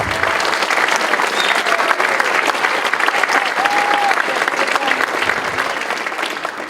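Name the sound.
applause for the tournament's head technologist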